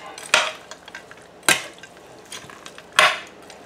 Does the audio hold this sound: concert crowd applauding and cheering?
no